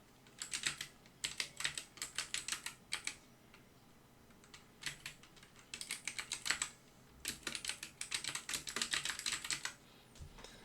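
Bursts of rapid typing on a computer keyboard, close and quiet, with a short pause between runs of keystrokes.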